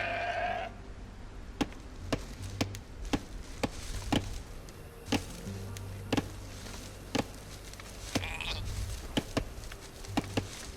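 Sheep bleating in the video game Age of Empires II, a short bleat at the start, followed by a steady string of game clicks and ticks over a low background hum.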